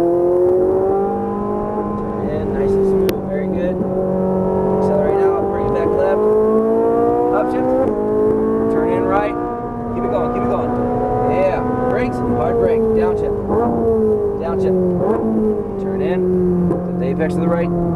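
An exotic sports car accelerates hard on a Las Vegas race track. The engine drones loudly and steadily, its pitch rising and falling through shifts, under continuous instructor talk.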